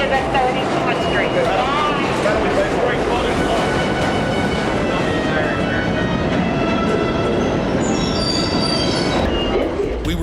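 A New York subway train rumbles loud and close through a station, wheels squealing and screeching high on the rails, with people talking beneath the steady roar.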